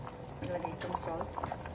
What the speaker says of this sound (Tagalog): Yung ating gata kumulo at lumambot yung ating kamote